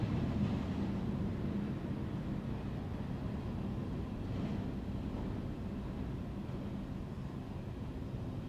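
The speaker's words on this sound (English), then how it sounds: "perhaps you hear a train going by in the background" A low, steady rumble of a train passing far off, a faint continuous drone with no voices.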